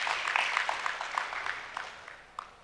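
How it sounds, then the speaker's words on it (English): Audience applause at a university conference, a fairly faint, sparse patter of clapping that gradually thins and fades, with a few final claps near the end. "Let's give them an extra round of applause."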